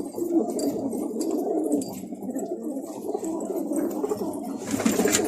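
Pigeons coo in a loft, a close, continuous layer of soft throaty calls overlapping one another, with a brief brighter rustle near the end.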